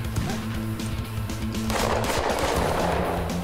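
Rapid automatic gunfire rattles in Totally Accurate Battle Zombielator, a dense continuous burst of loud shots that intensifies partway through, with no talking over it.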